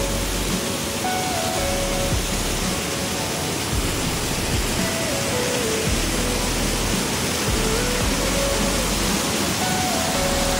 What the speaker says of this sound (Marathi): आता आम्ही पोहोचलो सहाव्या धबधब्यावर.